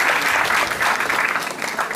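Strong, sustained applause from an audience at a welcome ceremony, a loud, even roar of many clapping hands that carries through without a break.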